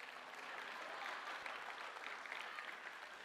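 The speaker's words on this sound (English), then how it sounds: "Go ahead and clap for that." Audience applause fills a lecture hall, a steady dense wash of many hands clapping together at moderate distance, continuous through the moment with no pauses.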